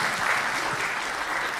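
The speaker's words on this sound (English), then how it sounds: "Applaudissements, s'il vous plaît, pour Vidéo." Dense, steady applause from a convention audience at a gaming show actor panel, loud and continuous throughout with no voices on top.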